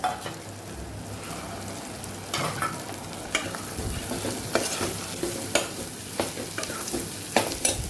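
Cowpea beans go into a pan of sizzling spice masala for a Kathiyawadi potato curry and are stirred, with steady frying sizzle and repeated scraping thumps of the spoon against the pan.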